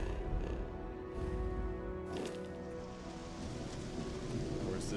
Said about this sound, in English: is it just it's really raining cold here?